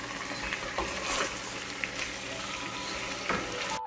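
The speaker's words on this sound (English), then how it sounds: "Now stir it." Goat curry frying in a pan with meat masala and garam masala as it is stirred, a steady close sizzle with scraping spoon strokes throughout.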